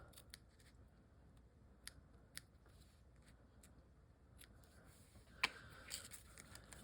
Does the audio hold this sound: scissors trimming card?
yes